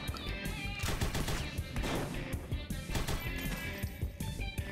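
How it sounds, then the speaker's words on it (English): Shotgun fire from an enemy in the video game Huntdown mixes with dense game action, loud repeated blasts and rapid shots crowding together over busy background effects. "He has a nice shotgun."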